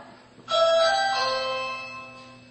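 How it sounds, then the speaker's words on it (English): A two-tone electronic doorbell chime rings once, clear and close, its tones ringing out and slowly fading against a quiet background hum. "ringing the doorbell"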